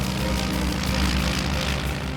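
A restored vintage propeller warbird roars on its takeoff run, its engine loud and close, with a continuous dense drone and no voices.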